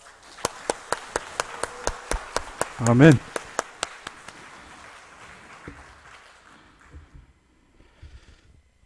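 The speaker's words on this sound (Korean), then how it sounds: "여러분, 우리 하나님께 영광의 박수 올립시다." Church congregation at a Thanksgiving Sunday service clapping in unison, about a dozen sharp evenly spaced claps over the first four seconds, with a spoken response midway and quiet room noise after.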